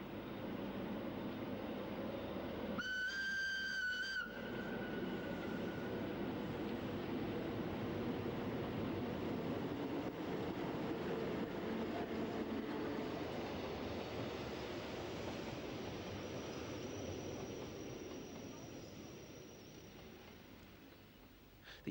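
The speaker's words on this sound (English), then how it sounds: "the Glacier Express sweeps over a succession of graceful viaducts" The Glacier Express runs through the Swiss mountains with a steady low rumble of the train rolling over track and viaducts, and a short horn-like tone sounds near the start before the rumble continues and gradually eases.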